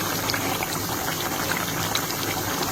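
Pabda fish curry with ridge gourd bubbles steadily in a pot, a dense continuous simmer with soft popping and gurgling throughout, close and even in level with no talk.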